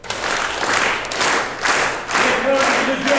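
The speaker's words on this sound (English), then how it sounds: "So we're going to do a rhythm type clap" An audience claps together in a steady rhythm, loud and dense, with a beat about every half second, and voices rising faintly beneath the clapping near the end.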